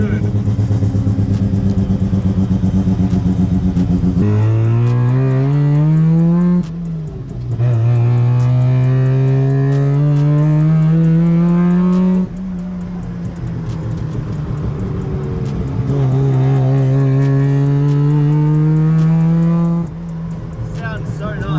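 A Mazda MX5 fitted with a 13B Bridgeport rotary engine is driven hard on a track, a very loud, raspy, buzzing exhaust note rising through the revs, dropping at each gear change, then climbing again.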